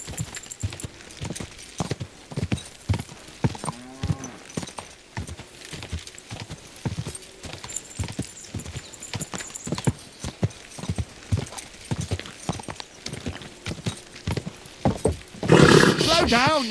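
A horse gallops in the video game Kingdom Come Deliverance 2, rapid rhythmic hoofbeats pounding steadily at close range, with a brief voice partway through and a loud snort or whinny near the end.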